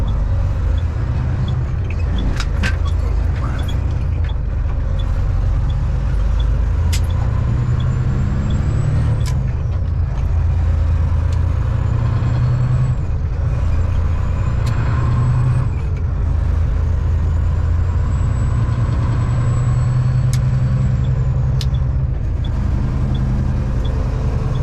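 Road vehicle engine droning steadily under constant loud road and wind noise from inside the cab, with occasional faint whines and clicks.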